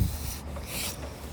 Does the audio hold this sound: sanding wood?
yes